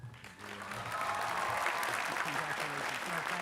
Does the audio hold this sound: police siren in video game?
no